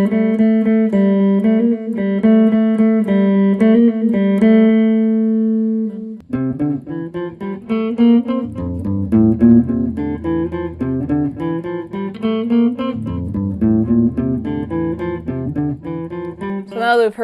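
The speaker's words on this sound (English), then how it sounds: "It sounds like this really awesome combo of delay, chorus, and reverb with some slapback" Electric guitar notes through an Arduino-based delay pedal ring out with repeating echoes, slapback, chorus and reverb in a shimmering, spacious wash, first a held repeated figure, then a flowing melodic run over a low bass note.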